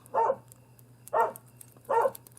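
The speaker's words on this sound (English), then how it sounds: "there's got to be something to bark at, so let's bark" A dog barks three times at an even rhythm, about one bark per second, moderately close and alone with no talk over a low steady hum.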